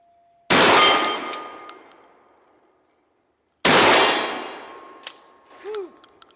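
Two shotgun slugs strike a steel target a few seconds apart, each a sharp, loud blast-and-clang that rings out and decays slowly, with a lighter metallic ping and faint whine after the second.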